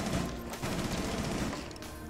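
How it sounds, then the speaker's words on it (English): Ash's rifle firing in Rainbow Six Siege, heard as a rapid automatic burst of gunfire that carries on for about two seconds, fairly loud within the game mix. "That's an ash gun, it sounds like."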